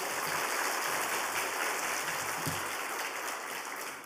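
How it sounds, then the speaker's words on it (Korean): A church congregation clapping together during a Wednesday service, a dense, sustained wash of applause that holds steady and tapers slightly at the end. "우리 감사의 박수 한번 하겠습니다"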